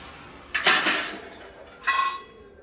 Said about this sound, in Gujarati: મમ્મી એકલી છે વાસણ ઘસ્યા અને લૂસવાનું કામ ચાલુ છે